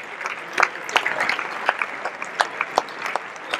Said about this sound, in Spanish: Un aplauso para los de Langa, que siempre están también ayudándonos.